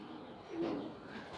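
Pigeons on a rooftop give a single soft, low coo that swells and fades within a second, faint and alone against quiet background air.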